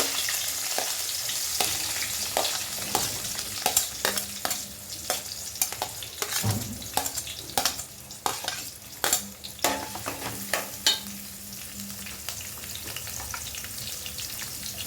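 Onions frying in hot oil with a pinch of turmeric for a brinjal and potato curry, a steady sizzle broken by repeated scraping stirs and clinks of a spoon against the pan, close and alone.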